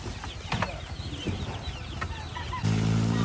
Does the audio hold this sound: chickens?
yes